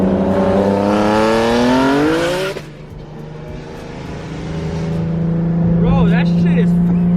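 Turbocharged Nissan 300ZX Turbo Z revs loudly close by, its engine note climbing steeply under boost before dropping off, then building again with a whistling flutter near the end.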